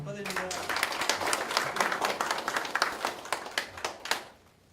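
Welcoming applause from the audience at an inaugural ceremony of an anti-corruption citizens' federation in Daejeon, brisk close clapping from many hands that runs for a few seconds, then fades out, with a voice speaking briefly at the start.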